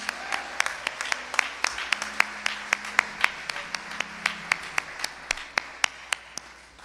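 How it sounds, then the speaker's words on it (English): Another round of applause for a presenter named Kevin: a small group claps in a fairly steady beat, with crisp, distinct claps that thin out and soften toward the end. "Give Kevin another round of applause."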